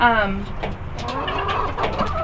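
Chickens on a farm, gathered by a dusting box, clucking and making short throaty calls close by, partly mixed with a person talking.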